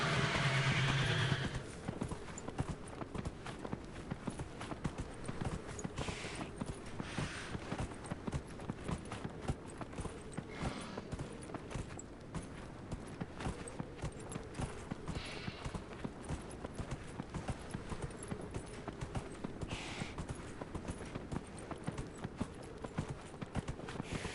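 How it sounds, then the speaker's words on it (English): Horse hooves clip-clop at a steady trotting pace for over twenty seconds in the video game Dragon Age Inquisition, with a short neigh at the start and soft ambient wind underneath. "Onto my magic horse."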